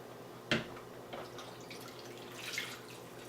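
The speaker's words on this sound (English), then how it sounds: "And then we're going to add some vegetable broth." Vegetable broth pours into a cooking pot for a kabocha pot pie, a quiet, steady liquid trickle with a sharp clink near the start and a brief swell of splashing toward the end.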